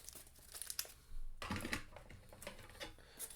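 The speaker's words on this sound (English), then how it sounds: "let me go ahead and give everything a quick courtesy shuffle here" Marvel Legendary game cards are shuffled by hand, making quick papery riffling and crinkling bursts that sound close and fairly quiet.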